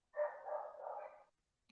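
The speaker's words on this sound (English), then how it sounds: "There's a dog barking in the background, John, somewhere." A dog somewhere in the background gives a single drawn-out bark, faint and distant, then silence.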